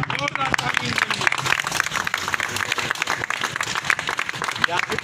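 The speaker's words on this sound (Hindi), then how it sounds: "एक बार जोरदार ताली के लिए।" Audience applause at a village welcome gathering in Sarai Jullena, a dense, steady patter of many hands clapping throughout, with voices mixed in beneath.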